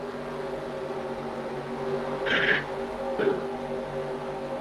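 NASCAR race cars take the green flag at the Charlotte All-Star race, producing a steady engine drone with a couple of brief, sharper bursts rising above it.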